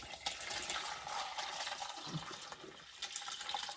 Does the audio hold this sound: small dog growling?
no